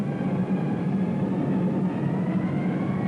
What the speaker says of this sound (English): Worried Germans heard the first wave drone overhead.